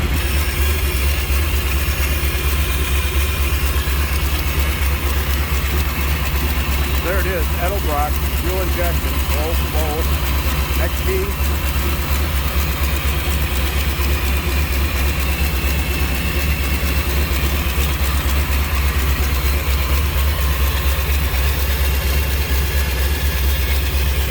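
A 400 small block engine in a 1932 Ford Highboy Roadster idles with a steady, loud low rumble that holds throughout, with a voice speaking briefly partway through.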